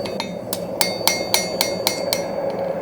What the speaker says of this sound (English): It obviously doesn't really want to be hammered on